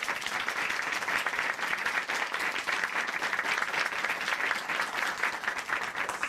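Studio audience applause for a guest on a Korean Christian testimony TV program: a steady, dense wash of clapping that holds at an even, loud level the whole time, with no voices over it.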